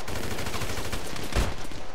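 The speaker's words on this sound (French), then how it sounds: "il me tire dessus" Gunfire in the video game GTA 5 Online rattles in dense rapid bursts, with one louder, punchier shot breaking through near the middle.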